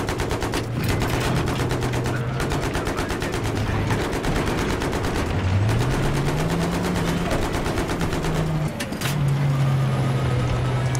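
Relentless rapid machine-gun fire in Battlefield 3, loud and continuous over a droning engine rumble, with no pause across the whole stretch.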